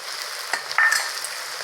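Tomato paste frying with ginger and garlic, a bright hissing sizzle that holds steady with a couple of small stirring knocks, close and fairly loud, no talking.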